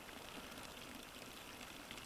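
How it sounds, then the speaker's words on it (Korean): Spring water trickles steadily into a small reservoir at a rural fishing pond, a faint, even hiss of running and splashing water that goes on without pause and with no voices. "물이 졸졸졸졸 흘러가는 소리 들으면서 있으니까 마음이 진짜 편안하네요."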